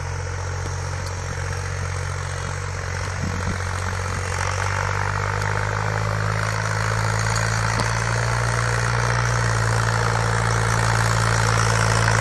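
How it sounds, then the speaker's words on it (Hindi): Modified New Holland 3630 tractor engine idling close by, a steady low throbbing drone with a slight rise in pitch partway through, continuous and alone. "आवाज ये अलग है भाई, ये ट्रैक्टर स्पेशल कंपनी ने जी लागा बनाया भाई।"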